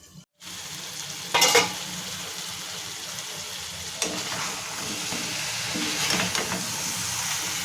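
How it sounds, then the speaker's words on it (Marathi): Red pumpkin vegetable sizzling and frying in a pan over a medium flame, a steady hiss with a few louder stirring scrapes and clatters. "भाजी परतून झाली की झाकण ठेवून आपल्याला मीडियम फ्लेमवरती शिजवून घ्यायचं"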